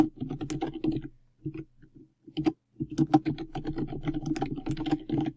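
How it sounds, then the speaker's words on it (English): Rapid, close keystrokes on a computer keyboard as a student's name is entered into a blank cell, a steady patter of clicks with one brief pause partway through. "you'll type in the student's name that you want to add"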